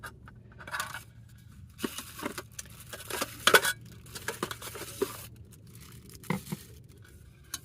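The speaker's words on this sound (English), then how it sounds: "So you have this little pan, and the handles fold in, so you save all of that space." Stacked camping cookware, a small pan with folding handles and a larger pot, handled close by: scattered light metallic clinks, taps and scrapes at an uneven pace, fairly quiet, with no talking.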